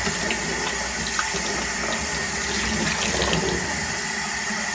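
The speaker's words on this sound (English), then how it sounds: "I also will spray these down with the water" A loud, continuous jet of water sprays and splashes onto canister filter sponges, an unbroken hiss with no talking.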